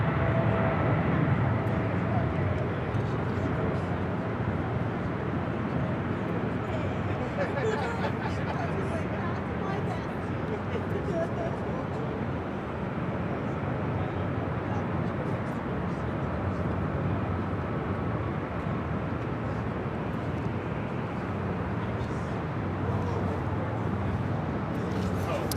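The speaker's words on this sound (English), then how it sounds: "Heavy taking off on the south side, 25 right." A Swiss heavy jet airliner, flight 41 to Zurich, takes off from runway 25 right on the south side, a steady broad engine roar held at a distance for the whole stretch, with faint crowd babble underneath.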